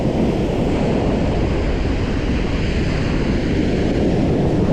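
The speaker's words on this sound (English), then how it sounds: "There's hardly any wind, but just a big rolling sea." Big rolling sea waves on a calm day with hardly any wind, heard from a shore fishing spot as a loud, steady roar of surf with a slight buffeting of wind on the microphone throughout.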